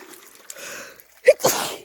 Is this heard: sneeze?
yes